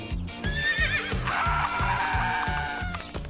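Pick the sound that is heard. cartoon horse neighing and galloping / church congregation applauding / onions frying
cartoon horse neighing and galloping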